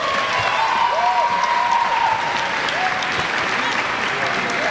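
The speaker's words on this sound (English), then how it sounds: "Just try to keep applause somewhat to a good level so everybody could hear their name" Graduation ceremony applause fills the room, dense sustained clapping from a large audience with faint crowd murmur and whistle-like tones beneath it.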